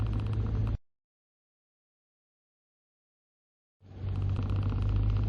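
A 2017 SsangYong Rexton W (Y290) with a 2.2 XDi diesel and automatic gearbox is being driven, giving a steady low engine and road drone that drops to silence for about three seconds, then returns.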